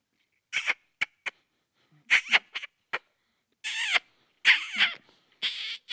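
A voice imitates a rabbit hunting call in short squeaky bursts, several quick chirps followed by longer wavering squeals separated by silence.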